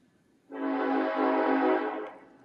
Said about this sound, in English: I got a train passing. You probably hearing it.